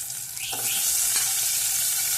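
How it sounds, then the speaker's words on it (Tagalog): Chopped tomato sautéing in a hot pan for pork liempo sinigang, a steady bright sizzle and crackle running throughout at close range with no talking. "Lutuin lang natin ng konti o igisa lang natin ng konti yung kamatis"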